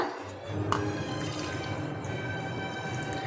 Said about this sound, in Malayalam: അത് നമുക്കിതിലേക്ക് ഒഴിച്ചു കൊടുക്കാം ഞാനിവിടെ മുക്കാൽ കപ്പ് തേങ്ങ വെള്ളമാണ് ഇതിലേക്ക് ചേർത്ത് കൊടുത്തിട്ടുള്ളത്